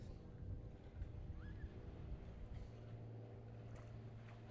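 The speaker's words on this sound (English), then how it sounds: "We're just looking there at the two boats heading in this direction, Team Flux and Typhoon X" Racing boats on the water off Helsinki during a race day, a steady low engine and water rumble with wind buffeting the microphone, heard from a moderate distance.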